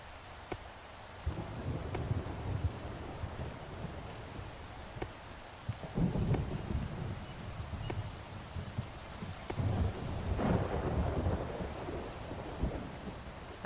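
Rain and thunder in the video game Solarpunk: a constant hiss of falling rain with low rolling rumbles of thunder swelling several times across the stretch, fairly soft and with no talk.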